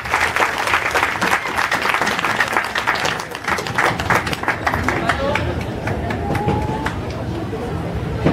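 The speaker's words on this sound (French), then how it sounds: "Applaudissez un petit peu, s'il vous plaît." Audience applause at a fair in Koumac, with dense, steady clapping from a crowd continuing for several seconds, and voices mixed in beneath it.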